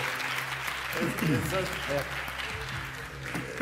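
An audience applauds in a hall for the teacher Mehmet Ali at a Quran recitation competition: steady, dense clapping from a crowd throughout, with a voice speaking over it.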